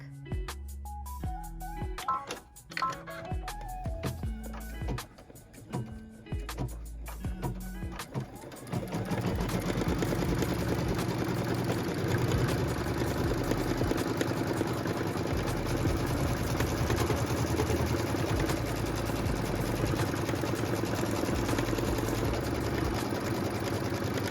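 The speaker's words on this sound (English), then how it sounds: "we're gonna go and stitch that outline, that final outline stitch, which is also our cut line" Sewing machine running steadily as it stitches the final outline around a pieced quilt block, a continuous dense mechanical whir after a few seconds of stop-start, then holding a constant level to the end.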